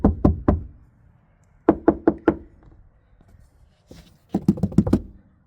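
Knuckle knocks on the trunk panel of an MK6 Golf fitted with sound deadening, three quick bursts of solid, dull raps separated by pauses, close and fairly loud with no talk.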